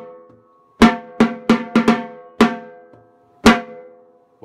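Drumline bass drums play the ending of a piece, several sharp resonant strikes in an uneven rhythm with ringing decay, clear and close in a quiet room, no talking.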